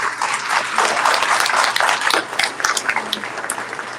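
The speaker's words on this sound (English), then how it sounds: "So let's give everyone a round of applause" Steady, dense applause from an audience at an event, a full round of clapping that holds strong for about four seconds with no talking over it.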